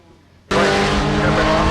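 A race car on a track roars in abruptly, loud and close, with a sustained engine drone and hints of tire squeal after a brief quiet start.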